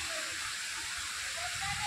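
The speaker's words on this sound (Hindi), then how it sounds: "आप ये देख सकते हैं झरना है" Waterfall in a forest, a steady broadband rush of falling water, dense and constant throughout the short stretch.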